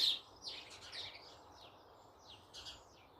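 Birds squabble outdoors, giving faint, scratchy chirps and calls in several quick bursts over quiet background hiss.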